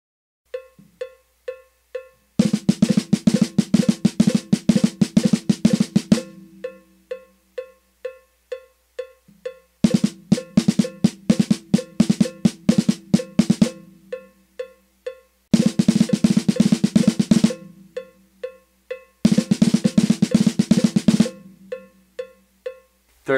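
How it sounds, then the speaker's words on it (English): Herta rudiment played on a drum set, loud bursts of rapid rolling strokes in several separate runs, set against a steady ticking cowbell-like click pulse between them, with no voices. "The one that I'll be applying to the drum set today is called the Herta"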